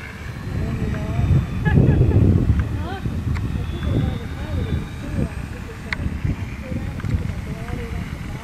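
Engine drone of an Arrows RC 1100 mm F8F Bearcat model airplane coming in for a slow landing with gear and flaps down, a steady moderate hum running throughout beneath ongoing talk.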